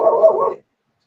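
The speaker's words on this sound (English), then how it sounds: "Now there's a dog barking in the background" A dog barks in the background at a rural family home, a single short burst of about half a second, fairly loud and clear, then silence.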